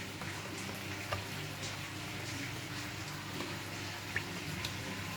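Pork gently browning in a pan for a Jamaican sweet and sour stew, a faint steady sizzle with occasional soft ticks and drips, nothing talking over it.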